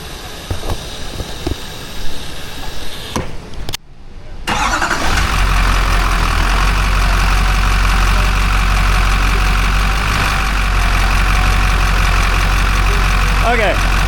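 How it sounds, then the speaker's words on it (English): A big truck's engine idles with a deep, steady rumble, close and loud, after a short burst of mechanical clatter and a brief drop out. "Big truck coming down."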